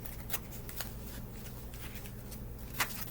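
Large oversized playing cards shuffle in a steady, close papery riffle with a few sharper flicks, over a low background hum.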